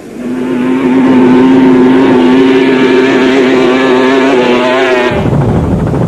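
An off-road race vehicle in the 1998 Toyota 1000 Off Road Race in South Africa roars at full throttle, a loud, sustained engine drone holding high and steady before it drops away sharply near the end.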